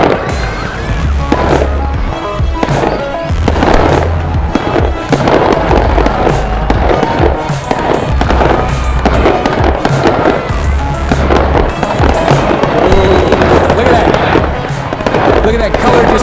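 Aerial fireworks finale set of 144 shots, a rapid, continuous barrage of loud booms and crackling bursts with no pauses across the whole stretch, set off in Las Vegas.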